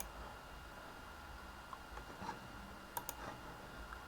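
Computer mouse clicks while a chart indicator is added in trading software, a handful of faint, sharp taps spaced irregularly over a low steady hiss.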